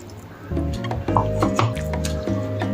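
Water is poured from a grinding jar into a batter mixture for thin pancakes, producing close, wet glugging and squishing splashes in several bursts with a faint clink of the vessel.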